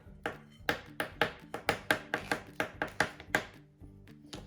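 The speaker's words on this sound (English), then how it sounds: "You just chop them up like that." Eggs chopped by hand with a knife, a steady series of about fifteen crisp, close blade strikes against a cutting board at an even rhythm, with no voices over them.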